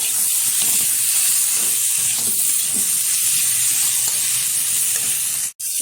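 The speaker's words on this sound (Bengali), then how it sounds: "দিয়ে দেবো ঝাল লঙ্কার গুঁড়ো 1 চামচ, দিয়ে দেবো পরিমাণ মতো লবণ। ভালোভাবে এবার কষিয়ে নেব।" Chili powder and salt being sautéed with spices and potatoes in a pan for a mushroom and egg curry, a steady close sizzle with scraping stirs throughout and a brief knock near the end.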